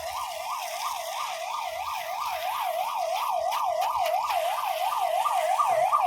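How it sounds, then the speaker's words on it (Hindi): An ambulance siren on the Sikandra road wails in a rapid, steady up-and-down cycle, loud and close as it passes, with faint road noise beneath it. "एम्बुलेंस की आवाज़ आ रही है"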